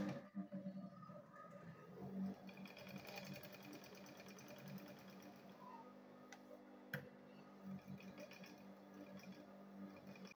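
Sewing machine stitching the leather lining of a men's handbag, a steady rapid ticking run that continues throughout at moderate, fairly quiet level.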